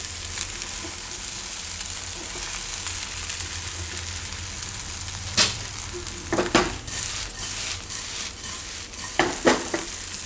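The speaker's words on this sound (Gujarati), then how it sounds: "આ રીતે મિક્સ કરી લેવાનું તેલમાં" Patra muthiya is stirred through hot oil during tempering, giving a continuous sizzle with a few sharp spoon-on-pan clanks toward the end. No one speaks.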